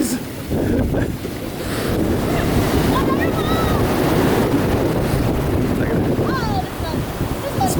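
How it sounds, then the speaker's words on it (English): Ocean waves on a Philippine beach break and wash ashore in a continuous loud roar, with heavy wind buffeting the microphone and faint distant voices. "The waves are pretty good size."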